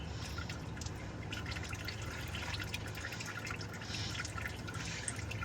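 Engine oil drains from a Duramax truck into a drain pan as a faint, steady trickle and patter of liquid running on without a break.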